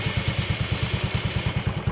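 A motorcycle starter motor spins whenever the brake is applied, caused by remote control wiring. It makes a loud, close, rapid and even chugging pulse that repeats steadily throughout, with no talking.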